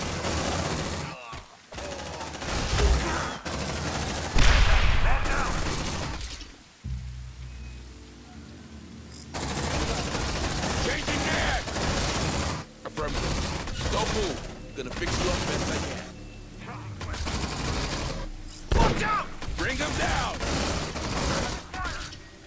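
Rapid bursts of automatic gunfire from the video game Aliens: Dark Descent, dense rattling volleys in repeated stretches with brief lulls between them, loud and close, with shouted voices now and then.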